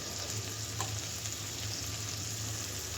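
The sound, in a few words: onions and dried loitta fish frying in a pan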